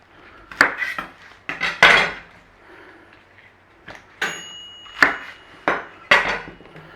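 Green onion is chopped on a board for a salt and pepper chicken dish, giving a handful of sharp knife knocks in uneven small bursts, close and crisp, with no talking.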